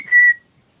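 A parrot's single clear, steady whistle note, short and close, lasting about a quarter second before fading into silence.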